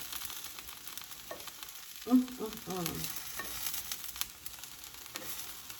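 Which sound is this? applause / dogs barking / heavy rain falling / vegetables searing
vegetables searing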